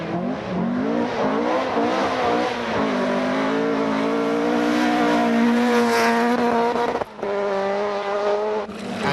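An Opel Kadett 400 rally car on the Pitmedden stage in Scotland, its engine revving hard through rising and falling gear changes, loud and close, with a brief drop as it shifts.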